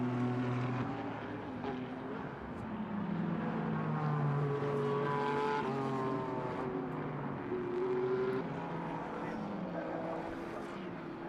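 GT4 race cars race closely around the SUGO circuit in Japan, their engines a steady, droning roar with shifting pitch that continues throughout, heard under commentary.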